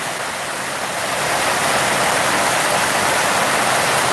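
Heavy downpour at an outdoor chilli market, a loud dense roar of rain that builds slightly in the first second and then holds steady and unbroken.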